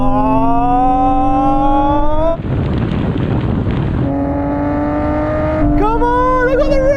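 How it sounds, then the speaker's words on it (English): Nissan GT-R R33 and R34 accelerating hard side by side in second gear in a rolling drag race from 30 mph, engines revving up loudly in long rising pitch sweeps, with a roaring gear-change gap midway and steady wind buffeting. "Now we can have a rolling race from 30 miles an hour with the cars in second gear."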